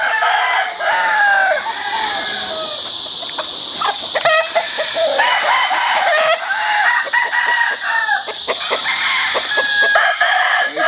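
A Brown Gray Straight Comb gamefowl rooster crowing, with repeated loud crows and clucks from a crowd of chickens on a farm that continue throughout.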